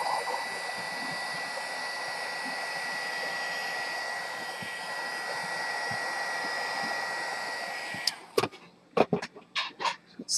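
A hair dryer blows steadily to dry paint on a Halloween craft tag, a continuous close whoosh for about eight seconds before it cuts off, followed by a few sharp handling knocks and taps.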